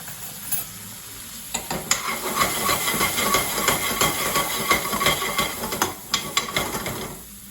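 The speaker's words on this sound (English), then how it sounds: "Spend a couple of minutes just cooking the spice as well." Chilli powder and spices cooking in a pan over medium flame, a strong hissing sizzle with frequent scraping stirs, rising after a quieter start and easing near the end.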